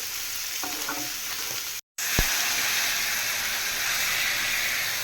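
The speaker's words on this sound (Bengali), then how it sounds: "আর অন্য চুলায় আমি পেঁয়াজ ভাজতেছি" Onions fry in oil on a home stove, a constant loud sizzling hiss throughout, with a brief stir or clink near the start, a short cut in the sound, and then a sharp knock before the sizzle resumes.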